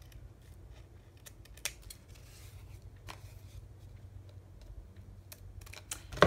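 Scissors trim paper for prayer journal pockets, making quiet, crisp snips at an uneven pace over a low background hum, with a louder cut at the end.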